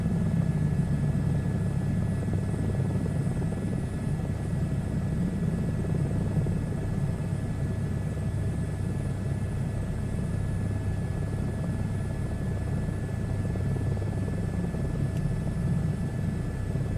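Helicopter in a video game whirring in a constant, fairly quiet steady drone with no talking, holding an even rotor hum from start to finish.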